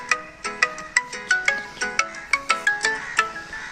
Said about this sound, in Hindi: एक जन का फ़ोन आ गया था